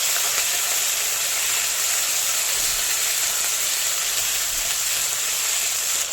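Fennel paste dropped into hot oil with ground ginger and green chilli, a loud, dense, continuous sizzle and hiss that stays steady throughout with no voices.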